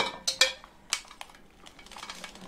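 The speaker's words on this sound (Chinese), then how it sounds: "我们干锅下入青椒，开中火把青椒煎一下，煎的时候用勺子压一压" Green peppers dry-fry in a hot oil-free wok over medium heat while a metal spoon presses them, giving sharp clinks and scrapes of metal on metal over a faint sizzle.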